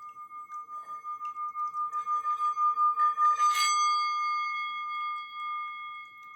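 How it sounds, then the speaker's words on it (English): A sound bowl rings with a clear sustained tone, its volume swelling in steady rhythmic pulses as it is rubbed, then a brighter strike near the middle before it slowly fades, quiet and close. "So just judging by the sound bowl opening"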